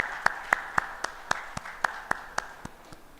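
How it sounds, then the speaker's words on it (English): Slow, sparse claps at an HR conclave, about a dozen sharp, evenly spaced hand claps that fade toward the end, sounding like a few people clapping rather than a full audience. "Can we have another round of applause for Nilakshi and Riza?"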